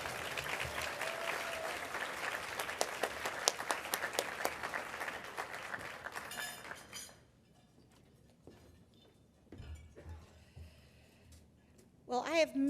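An audience applauds to welcome a keynote speaker to the stage, steady dense clapping for about six seconds that then tapers off into scattered claps and room noise before a voice begins to speak.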